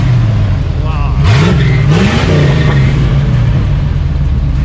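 A C3 Corvette engine with an LS3 swap revs loudly in a few rising pulls over a steady rumbling idle, with people talking over it.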